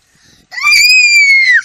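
A person lets out a loud, sustained, high-pitched scream lasting about a second, rising abruptly after a few seconds of faint low murmuring.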